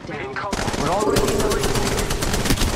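Rapid automatic gunfire in the mobile battle royale Apex Legends Mobile, a dense, loud burst of shots with a brief pause before a sustained stream, close and continuous, layered over game sounds.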